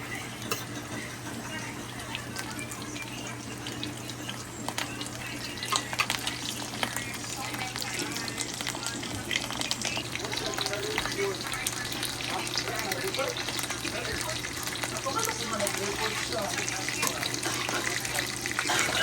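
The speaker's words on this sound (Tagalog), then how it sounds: "So, mainit na yung oil. Lagyan na natin tong toyo." Soy sauce poured into hot oil gives a steady, close sizzle with a frying hiss that lasts throughout, while a person talks briefly in the background.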